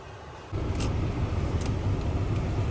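A car travels along a road near a lake, its steady low engine and tyre rumble swelling in after a quieter first half-second and then holding at an even level.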